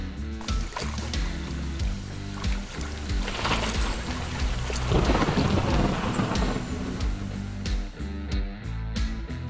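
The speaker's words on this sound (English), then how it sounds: "there was a thunderstorm coming behind him, and the clip turned out to be awesome" A thunderstorm rolls in over a North Dakota field, caught on a trail camera: loud rumbling thunder swells midway over steady rain, with close raindrop patter and no talking.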